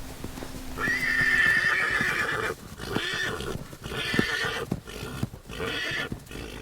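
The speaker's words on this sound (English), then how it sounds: "campers in the park can hear the mournful cries of the horses carried on the wind" Horses whinny and neigh loudly and close by in the canyon country of Dead Horse Point, Utah. A long drawn-out cry is followed by shorter calls, with hooves clip-clopping beneath.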